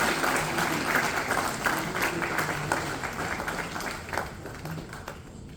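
A mushaira audience at an Urdu poetry event claps to welcome poet Zaki Kakorvi, a steady, fairly close patter of many hands that gradually thins toward the end.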